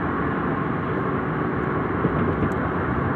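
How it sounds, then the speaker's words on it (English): Inside a moving car, a steady low rumble of road and engine noise fills the cabin, constant and fairly loud, with no voices. "sorry about the noise. I am driving"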